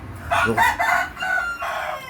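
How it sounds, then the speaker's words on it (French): Rooster crowing close and loud, one full cock-a-doodle-doo call with a rising opening and drawn-out falling end, alone without talk. "Merci le coq."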